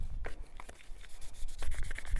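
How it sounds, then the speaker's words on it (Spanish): Wet sanding of a telephone with sandpaper under running tap water: quick irregular rasping strokes, close and fairly loud, with scraping bursts repeating through the stretch. "Con el agua abierta le vamos dando con la lija y veréis cómo va saliendo todo."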